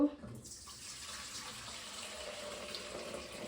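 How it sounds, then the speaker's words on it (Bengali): Hot water is poured steadily for a tiramisu dessert, a soft continuous splashing rush close by that lasts the whole stretch without a break. "গরম পানি দিব"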